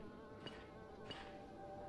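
A mosquito in the Minecraft video game gives a faint, thin buzzing drone, with two slightly stronger pulses within a couple of seconds.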